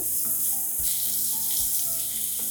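Chopped onions fry in a pan for Maharashtrian dal batata amti, giving a steady close sizzle and hiss that runs unbroken for the whole stretch, with faint tonal sounds underneath and no talking.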